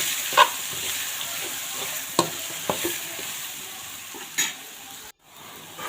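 Prepared masala for lemon rice fries in a pan with curry leaves, giving a steady close sizzle with occasional scrapes and taps of the stirring spoon against the pan.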